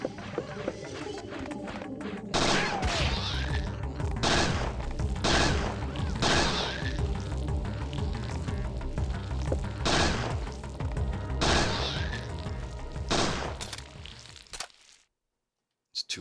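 Gunfire in the survival-horror game Parasite Eve II: around ten loud, sharp shots at irregular intervals over a low, continuous background, ending in sudden silence.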